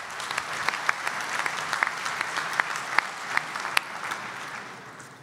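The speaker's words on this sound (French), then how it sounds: "On l'applaudit." Audience applauding at a young farmers' congress in a large hall, a sustained dense patter of clapping with a few sharper individual claps standing out, steady throughout and fading slightly at the end.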